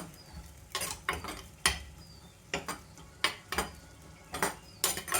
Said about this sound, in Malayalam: ഇളക്കിട്ട് കൊടുക്കുന്നു കേട്ടോ.